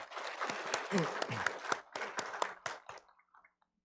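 A small church congregation applauds after a choir anthem at a Sunday service, scattered claps building then thinning out and fading to silence after about three seconds.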